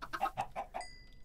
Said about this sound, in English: I might as well feed the chickens